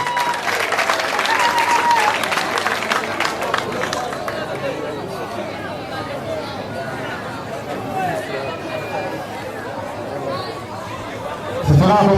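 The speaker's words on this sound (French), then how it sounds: "Applaudissez." Applause and lively crowd chatter fill a school party hall after a student is crowned Miss of the year, strong at first and then easing into a steady murmur of many voices, with a sharp knock near the end.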